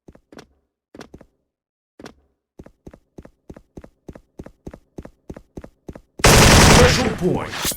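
In Special Force, G3A3 2nd-gen rifle shots ring out in a steady run of evenly spaced single cracks, each close and clear, before a sudden dense roar of loud noise fills the last second and a half.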